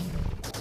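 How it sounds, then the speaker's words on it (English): A brief, dense blast of a shotgun firing in Terraria, a loud crackling burst that briefly cuts off and resumes, heard alone. "That's the shotgun one."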